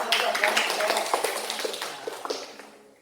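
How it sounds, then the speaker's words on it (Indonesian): A classroom of pupils applauding one pupil, a short burst of loud, dense clapping that tapers off over a few seconds. "Kita beri tepuk tangan dulu untuk Cika"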